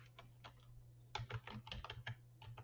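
Keys clatter on a computer keyboard in quick irregular bursts, close and fairly quiet over a low steady hum, with no one talking.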